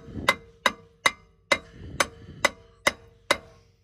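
A hammer strikes the rusted rear brake rotor of a 2005-2010 Jeep Grand Cherokee or Commander, eight sharp metallic blows at a steady, evenly spaced rhythm, each ringing briefly before the next, close and without talk.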